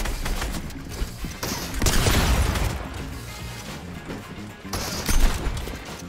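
Gunfire in the video game Fortnite, dense loud bursts of shots and crashing impacts rolling on almost without a break, with the heaviest volley in the middle; no talking.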